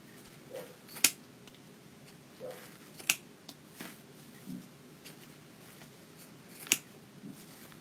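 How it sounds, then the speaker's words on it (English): Scissors trimming the tails of a ribbon bow, a handful of quiet, crisp snips spaced out at irregular intervals against a faint background, with soft rustling of ribbon between cuts. "now you can come back in here and trim these tails up nice and pretty"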